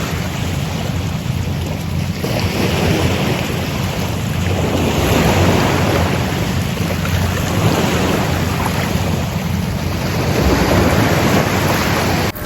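Sea waves wash in with a continuous roar, swelling in slow surges every few seconds, with no voices.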